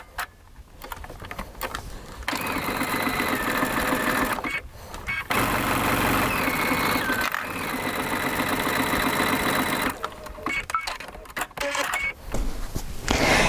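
A sewing machine stitches a curved seam in steady whirring runs, pausing briefly a few times between bursts, loud and close, with someone speaking over it.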